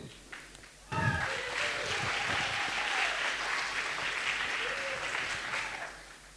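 Broad, full applause rises abruptly from a festival award ceremony crowd in Berlin and holds steady for several seconds before tapering, with a voice briefly heard at the start.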